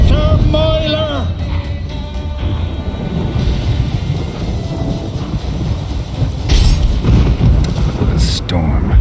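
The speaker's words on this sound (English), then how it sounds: "A storm, damn it." Thunderstorm in The Witcher 3 video game: a low, sustained rumble of thunder and rain with heavy low-end noise throughout, layered under game music and character voices.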